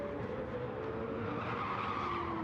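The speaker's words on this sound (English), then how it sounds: "I think I've heard a lot of tyre squealing from Foss going through Forest Elbow." Race car tyres squealing and skidding through Forest Elbow at Bathurst in a racing video game, a continuous high screech over a steady engine drone.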